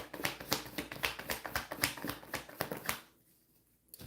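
Tarot cards are shuffled in quick, rhythmic riffles, a steady run of crisp flutters close up for about three seconds before stopping.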